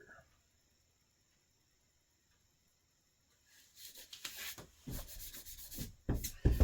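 A sticker being pried and peeled off a surface: a quiet stretch, then close, scratchy rubbing and scraping with a few sharper tearing bursts.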